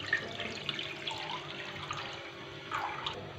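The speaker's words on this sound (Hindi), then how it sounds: "तो अब इसमें हम डालेंगे जो हमने इमली का पल्प लिया है वो डाल देंगे।" Tamarind pulp pours into a pan with a soft, continuous liquid splashing and trickling, faint and close.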